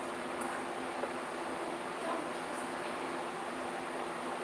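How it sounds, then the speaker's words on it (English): A steady, even whooshing hum of an electric fan running, constant and close with no pauses. "that noise is my fan."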